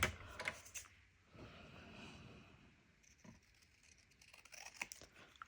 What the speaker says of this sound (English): I'm gonna just use my scissors.